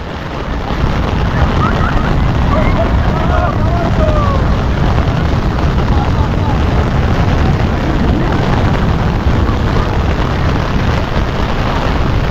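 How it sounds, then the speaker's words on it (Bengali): Heavy rain pouring down at a seaside spot where a river meets the sea, a dense, loud, unbroken roar of rainfall filling the whole scene without pause. "প্রচন্ড বৃষ্টি, প্রচন্ড বৃষ্টি।"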